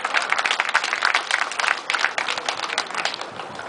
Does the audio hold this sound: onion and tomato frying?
no